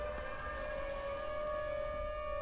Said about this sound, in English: I like the tornado siren the way it was